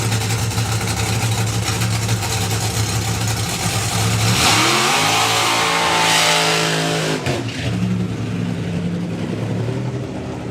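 The drag racing car Hound Dog thunders past the tower at Dragstalgia 2024, a loud, continuous engine roar whose pitch sweeps downward as it passes close by, then keeps roaring strongly as it pulls away.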